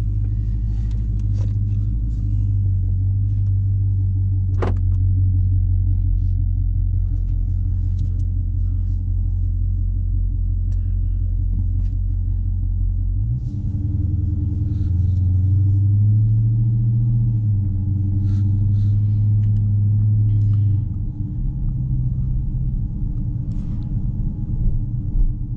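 A 2020 Dodge Charger Scat Pack with a 392 Hemi engine idles, a loud, deep, steady rumble that shifts pitch slightly midway and holds on without a break.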